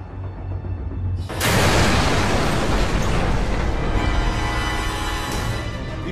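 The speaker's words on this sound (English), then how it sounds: "Before he even opens the door, the bomb detonates." A bomb detonates in a police car: a sudden loud, broadband blast erupts after a moment of low rumble, then sustains as a roaring, crackling wash of noise that slowly eases off.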